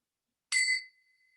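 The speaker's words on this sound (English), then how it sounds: "As the bells fade into all the ambient sounds around" A single meditation bell rings out alone in silence, bright and clear, its tone holding briefly and then fading away into quiet.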